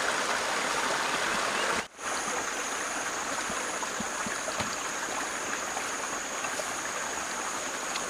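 Clean water runs in a stream from a small waterfall close by, making a steady, even rush that is uninterrupted apart from a momentary dropout early on.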